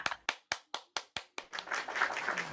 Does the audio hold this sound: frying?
no